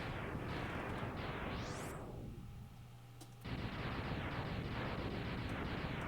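Explosion in the video game Mega Man X: a loud, sustained rumbling burst with rising sweeps, briefly dropping to a quieter hum before the roar returns at full strength.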